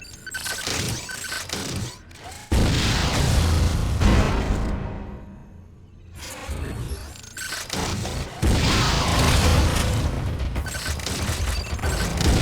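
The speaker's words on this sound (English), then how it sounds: "Why not say hello with a missile?" A missile launches in Metroid: Other M with a heavy boom and rushing blast, then a short hush and a second loud explosive surge, all under thick game ambience.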